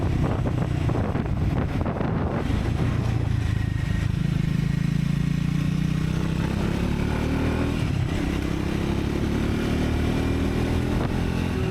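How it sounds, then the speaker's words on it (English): A Triumph Scrambler 400X single-cylinder motorcycle cruising along a country road, its engine a steady low drone whose pitch climbs slowly, with heavy wind rush over the microphone throughout. "A nice bike to have for a small size single cylinder. Triumph did a great job on this."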